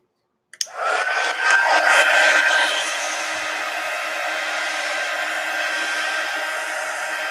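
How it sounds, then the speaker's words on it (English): A hair dryer switches on with a click and blows steadily to dry a watercolor painting, a loud close whooshing hum that eases slightly after a few seconds and continues alone without talk. "Let me dry this real quick."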